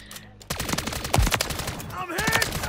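Gunfire in the Modern Warfare Zombies game, rapid bursts of automatic shots with one heavier blast, close and loud, with brief voice sounds mixed in.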